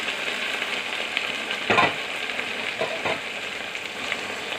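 Washed chicken pieces fry uncovered in a pan for Telangana-style chicken fry, a steady soft sizzle broken by a few louder stirring scrapes, close and fairly quiet with no talking.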